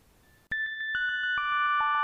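A phone rings after a Casio G-Shock GA-B2100 watch's phone finder is triggered, a series of bright electronic ringtone tones starting abruptly and continuing clear and steady.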